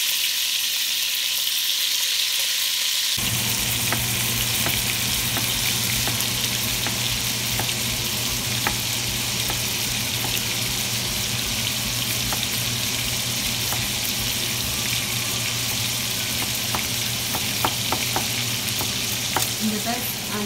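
German beef rolls searing in oil in a pan, a constant loud sizzle with sharp crackling spits throughout, growing denser after a few seconds as more rolls go in.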